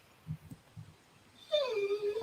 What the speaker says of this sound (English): Is that your dog in the background, Juliet?